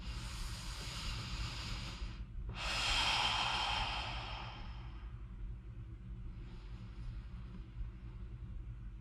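Deep, slow breaths during a full-body mat workout, a long breathy exhale sweeping up loudly near the middle over a low steady rumble, followed by fainter quieter breathing.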